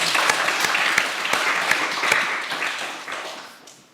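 A congregation in a small rural church claps loudly with a few sharp individual claps standing out, then the applause tapers and fades away.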